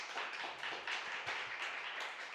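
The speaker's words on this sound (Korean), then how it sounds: "박수로 환영할까요?" Small church congregation at a Wednesday prayer service clapping in welcome, a moderately faint, steady patter of hands with no voices over it.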